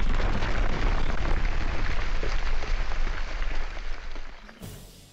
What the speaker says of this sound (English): I think it's firework explosion B, but it also kind of sounds like wood crate impact